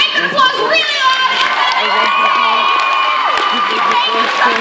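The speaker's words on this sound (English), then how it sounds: "Make the applause really loud!" A cosplay event crowd cheers, whoops and shouts loudly, with children's voices among them, in a dense, sustained roar that holds steady for the whole stretch.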